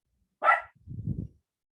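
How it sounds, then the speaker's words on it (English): A single dog bark, sharp and close, followed by a low gruff rumble, then silence. "see if she stops barking."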